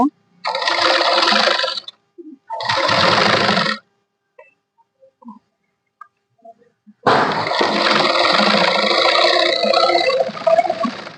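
A sewing machine stitches the lining of a blouse in three bursts of steady, close whirring separated by quiet pauses, the last run the longest.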